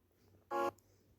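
A single short electronic beep, clear and tonal, standing alone against a quiet background.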